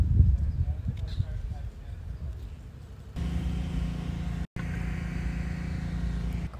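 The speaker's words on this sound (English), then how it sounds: "there's a mobile car wash parked on the street now." A mobile car wash van parked on a residential street runs noisily, its steady engine or pump drone with a low hum starting abruptly midway after quieter outdoor sounds, briefly cutting out before resuming.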